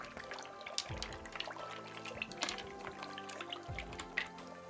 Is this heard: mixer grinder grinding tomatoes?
no